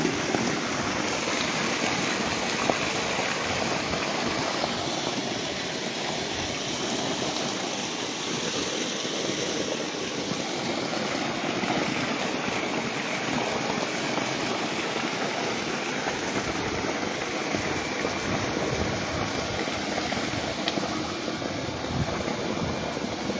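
Water from a solar-powered pump pours in a steady, dense rush, a continuous broadband splashing that stays loud and unbroken from start to finish with no voices.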